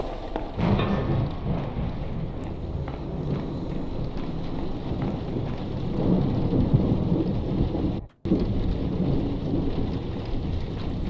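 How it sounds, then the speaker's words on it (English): Steady heavy rain pattering against window panes in the video game The Dark Mod, with low rumbling underneath, continuous and fairly loud, broken by a brief dropout near the end. "Is that just the rain on the window panes"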